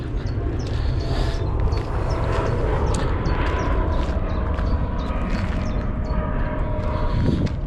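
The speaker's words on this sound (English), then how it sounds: "Oh, another plane going overhead." An airplane passes overhead outdoors, a broad continuous roar that holds steady and fairly loud through the whole stretch, with faint scattered outdoor sounds and no talk.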